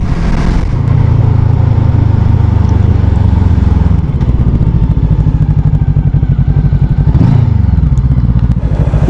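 A Yamaha Aerox 2021 motorcycle rides and leans through turns on the road, its engine loud and close with a continuous rough drone, shifting pitch as it accelerates and eases off, plus wind buffeting.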